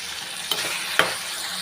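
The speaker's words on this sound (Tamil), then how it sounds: "ஒரு மூணு தக்காளி சேர்த்துக்கிறேங்க அது கூடவே கொஞ்சமாக கருவேப்பிலையும் சேர்த்துக்கிறேங்க எல்லாமே நல்லா வதங்கி வரட்டும்" Tomatoes and curry leaves sautéing in a pan for tomato chutney, a steady close sizzle broken by two sharp stirring scrapes, with no talk.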